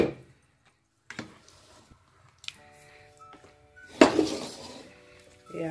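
Oxtail tomato sauce is stirred in a cooking pot. A spoon scrapes and clinks against the pot in a few sharp, close taps and knocks spread between quiet pauses, with a soft wet squish of sauce.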